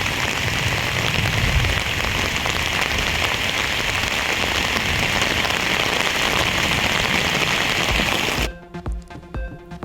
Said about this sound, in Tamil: தமிழகத்தின் பல்வேறு பகுதிகளில் வெளுத்து வாங்கிய கனமழை